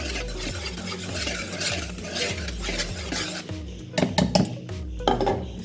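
A spoon stirs two cups of maida with baking soda and salt in a bowl for vettu cake, producing steady rhythmic scraping strokes with a few sharp clinks near the end.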